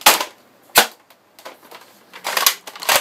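A 3D-printed, modified Nerf Kronos blaster with a sealed breech fires close by, making several sharp, snappy pops at uneven intervals with faint clicks between them.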